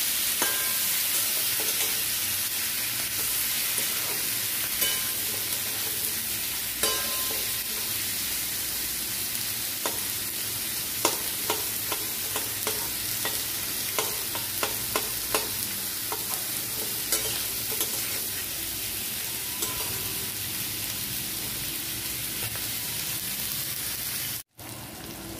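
Bell peppers stir-frying for chilli chicken, a steady broadband sizzle with frequent spatula scrapes and clicks against the pan throughout, close and continuous with no voices.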